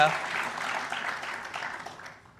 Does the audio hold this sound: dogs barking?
no